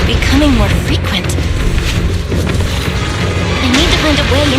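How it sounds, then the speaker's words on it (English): Heavy, continuous rumbling booms from explosions in the video game Zenless Zone Zero, loud and close, with rising electronic tones and clatter layered over the roar. "Explosions are becoming more frequent."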